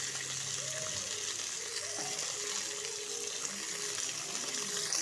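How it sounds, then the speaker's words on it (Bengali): Shingi fish rubbed with salt and turmeric fry in hot mustard oil in a pan, giving a steady, close, broadband sizzle that holds evenly throughout. "এবার একই তেলে মাছগুলোকে ভেজে নেব"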